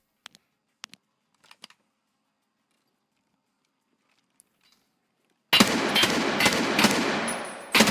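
An assault rifle fitted with a Jailbreak muzzle device fires in Escape From Tarkov. A few faint clicks and taps come first, then a loud, rapid burst of automatic gunfire rattles on for over two seconds.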